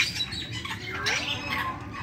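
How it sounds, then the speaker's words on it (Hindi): Parrots at a zoo give a couple of sharp, fairly close squawks over a steady murmur of background noise, with no talking. "और भी हैं तोते वहाँ पे,"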